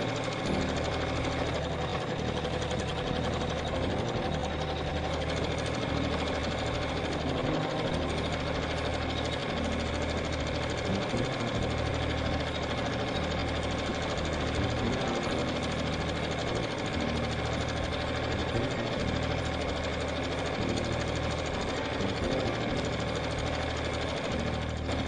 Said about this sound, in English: I'm going to stitch a beautiful motif in that yellow area.